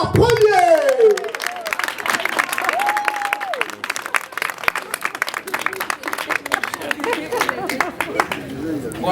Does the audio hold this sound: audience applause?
yes